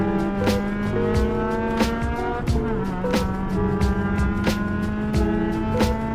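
A race car at the Malaysia Speed Festival pulls hard in fourth gear out of turn 3 into turn 4, its engine a loud, steady close-up drone with regular sharp bursts and shifts in pitch, and no talking.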